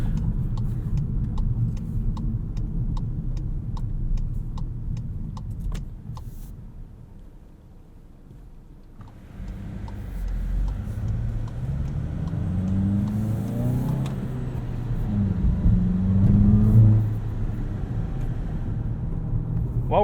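A 2022 Volkswagen Jetta GLI with a 6-speed manual cruising on the Autobahn: steady road and engine hum from inside the cabin, dipping briefly and then building again as the engine revs up.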